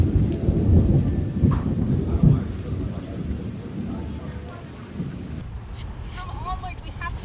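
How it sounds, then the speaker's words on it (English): Heavy rain pours down steadily during a thunderstorm on Koh Rong Island, with low rumbles of thunder early on and wind buffeting the microphone; a voice speaks briefly near the end. "And it's thunder and lightning and the weather is not great."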